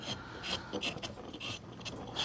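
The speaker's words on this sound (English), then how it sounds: "my tool is in good shape. I'm not leaving a lot of nasty surface scratches and tears. The wood is cutting very nicely" Carving tool paring through wood in a close series of soft, raspy cuts and scrapes, steady and fairly quiet with brief pauses between strokes.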